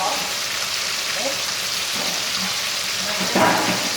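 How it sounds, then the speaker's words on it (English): Chicken legs frying in a pan give off a steady, close, crackling sizzle with a brief louder burst near the end. "Look at that sizzle."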